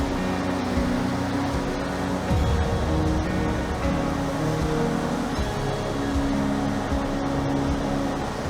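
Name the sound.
ocean waves and surf at spring tide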